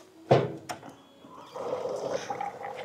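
A household water purifier starts up and water runs into it, a couple of sharp clicks followed by a steady gurgling, filling flow close by.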